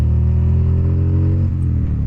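A heavy motorcycle engine held high in the revs, a loud, steady close-up roar with dense low harmonics and no cut-out from the rev limiter.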